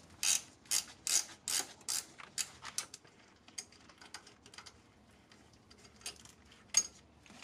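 A ratchet loosens the ground wire bolt on a 2008 Acura MDX engine, first with a quick run of crisp clicking strokes, then with slower, sparser clicks, close up and quiet with no voices.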